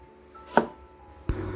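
A knife cuts a mild horn chili pepper into slices on a board, two crisp separate chops about three-quarters of a second apart, close and clear.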